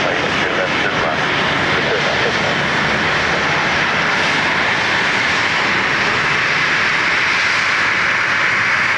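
An airliner on approach to land at Dublin Airport roars loud and close with a broad, steady jet-engine rush that holds strong throughout, with no break.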